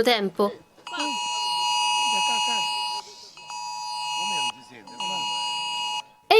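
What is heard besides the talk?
IT-Alert public emergency alarm ringing on mobile phones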